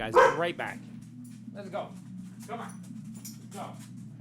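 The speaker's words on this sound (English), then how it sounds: "I apologize for the crazy barking dog." A pet Labrador barks in sharp, loud bursts near the start and end, with fainter yips and whimpers between, as someone talks over it and a steady low hum runs underneath.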